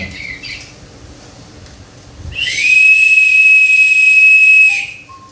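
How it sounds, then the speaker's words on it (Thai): A single shrill whistle is blown in one long steady blast lasting a couple of seconds, loud and close, after a few faint chirps from a Joypalette toy singing bird. "จะลองเป่านกหวีดูนะครับว่าเขาจะยังไปได้ได้อีกไหม"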